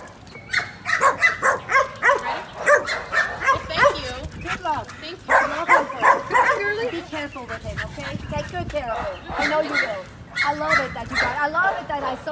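A female shelter dog barks loudly and repeatedly in close, rapid bursts throughout, mixed with a few yips and whimpers, while people talk in the background.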